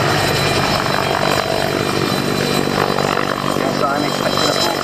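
An HKR-10 helicopter with a Bristol Siddeley Gnome turboshaft engine roars loudly at an air show, with steady whine and rotor drone under a commentator's talk.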